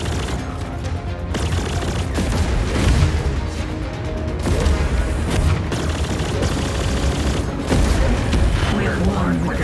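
Spaceship weapons firing during a space battle in the game Chorus, with a loud, dense barrage of blasts and booms rolling continuously beneath game dialogue.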